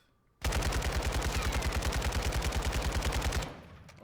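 A Kastov 762 rifle in Call of Duty Warzone 2.0 fires one unbroken full-auto burst of about three seconds, rapid even-paced shots loud and close, then cuts off into quiet.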